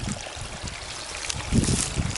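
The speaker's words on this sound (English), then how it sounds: "So we just crossed this little creek here. It's running pretty clear. It's got some rocky bottom to it" A small, clear creek flows over a rocky bottom along a wilderness lake trail, giving a soft, steady close trickle and burble with some low rumbling splashes near the end.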